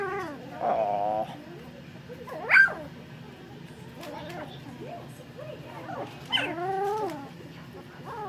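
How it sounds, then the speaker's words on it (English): Young puppies eating their first solid food whimper and yip in short, high, rising cries scattered over several seconds, with a low steady hum and some voice-like murmuring underneath. "These are puppies."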